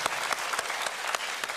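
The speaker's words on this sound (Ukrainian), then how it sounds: "судя по аплодисментам в залі і овациям, які тебе устроїла публіка" An audience in a TV talent show hall applauds steadily, a dense patter of many hands clapping at a moderate distance, with no talk over it.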